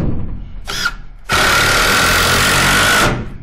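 An impact driver drives a screw through aluminum facade material. A short burst is followed by a pause, then a loud, sustained rattling hammer of about two seconds, close by, before it stops.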